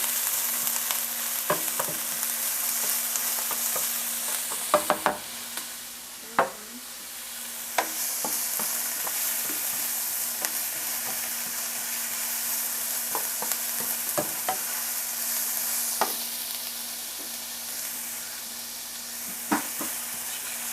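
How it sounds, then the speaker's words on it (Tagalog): Garlic and onion sauté in a pan for a sotanghon guisado, giving a continuous sizzle broken by scattered clinks and scrapes of a spatula stirring, with no talking. "pwede nang i-add yung ating bawang. And again, igigisa lang uli natin."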